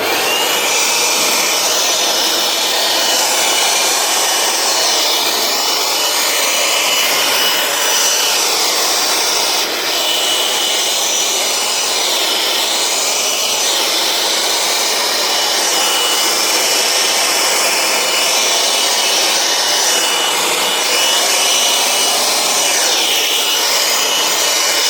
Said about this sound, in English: Next up, we have the Ryobi spot blower. I have a fully charged 6 amp hour battery on speed 3.